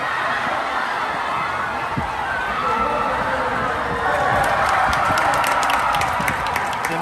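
A crowd at the NCAA Division I swim championships claps and cheers at a race finish. The noise is a broad, distant roar with scattered applause, and a voice talks over it.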